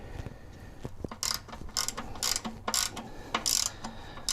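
Ratchet clicking in short repeated bursts while tightening the transmission pan drain plug on a Toyota 4Runner, each stroke a crisp metallic ratcheting run followed by brief pauses, close and clear with no talking.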